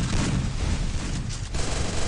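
Dense, continuous gunfire from a battle royale mobile game tournament semi-final, loud overlapping rapid shots and bursts with no clear pauses.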